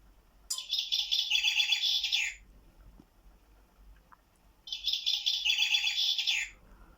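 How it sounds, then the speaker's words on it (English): A bird clock strikes one o'clock with a recorded chaffinch song, two bright, rapid bursts of trilling chirps separated by a short quiet gap, clear and fairly close. "in a few seconds' time, the chaffinch will go off."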